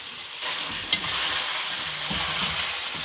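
Pork ribs being stirred in a pan, a steady close sizzle of frying with scraping stir sounds and one brief sharper clatter, no talking.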